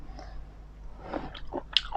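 Crunchy biting and chewing of shellfish, a few close, faint crunches at an uneven pace with no talking.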